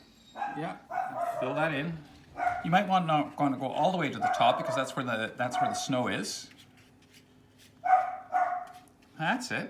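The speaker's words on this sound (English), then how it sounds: "Sorry for the dogs" Dogs bark and yip in the background while a person talks through a painting step, with a couple of sharper barks standing out near the end.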